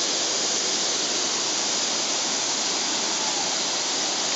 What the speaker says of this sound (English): I wish I could get it to show the water moving.